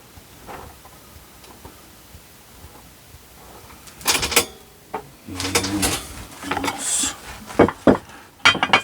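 Ceramic or plastic plant pots knocked and set down while one is picked for repotting a dwarf schefflera and ficus; a run of sharp clinks and hollow clunks starts quietly, then grows busier and louder toward the end.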